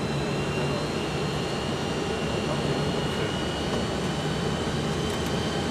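Boeing 747-200 jet engines rumble loud and steady during a night takeoff from Ben Gurion, heard from the cockpit as a constant broadband roar with a faint tonal whine above it.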